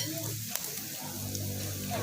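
Pork sizzles and crackles steadily on a hot Thai-Lao mookata tabletop grill, a constant frying hiss with faint background voices.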